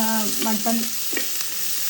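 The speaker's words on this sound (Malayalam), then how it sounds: "അതിനുശേഷം കുറച്ച് വലിയ ഉള്ളി ഈ എണ്ണയിൽ ഇങ്ങനെ വഴറ്റുക" Large onions sautéing in hot oil for a mutton roast give a steady close sizzle, with a brief spoken word over the start.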